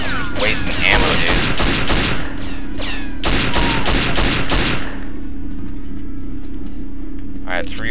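Rapid gunfire from the PC video game 007 Nightfire rattles in loud, close bursts for about five seconds, then stops, leaving a quiet low hum.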